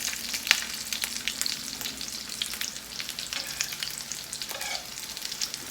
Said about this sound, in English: all you're doing is frying it to the crispness that you want